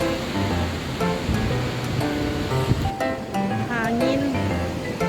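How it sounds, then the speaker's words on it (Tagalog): Sea waves at Bagasbas beach wash in a steady broad rush, overlaid by background music and talk from a nearby seaside spot. "Dagat yung background natin."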